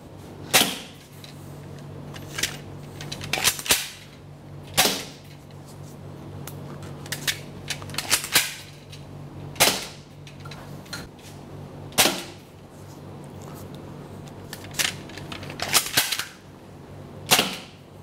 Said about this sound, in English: what happens when you shoot at the smart stick targets